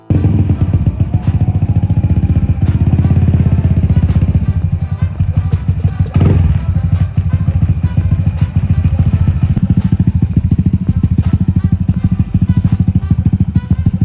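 A motorcycle engine fitted with an Arrow Thunder aftermarket exhaust idles loudly and close, with a deep throbbing exhaust note and one brief rev partway through.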